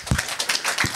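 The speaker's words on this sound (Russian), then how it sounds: "аплодисменты" Brief applause from the audience at the RIF+KIB 2011 conference elevator-pitch session, a handful of distinct claps in quick succession, close and moderately loud.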